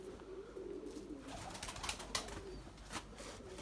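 Soft cooing from Erzurum white pigeons, low and murmuring against a faint background hum, with a few brief wingbeat-like bursts; close and quiet, no talking.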